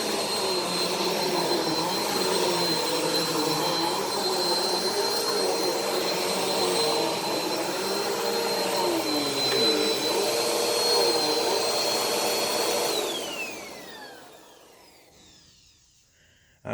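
A Bissell PowerForce Helix Turbo upright vacuum cleaner runs with a steady whining motor hum and airflow roar, loud and close, then winds down with a falling pitch until it goes quiet.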